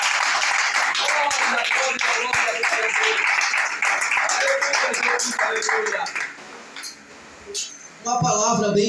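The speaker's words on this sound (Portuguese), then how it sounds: "Essas palmas foram para mim, obrigado, mas para Jesus deve ser melhor." A church congregation claps steadily through most of the stretch, sharp and fairly close, mixed with someone speaking over it; the clapping thins near the end before voices swell again.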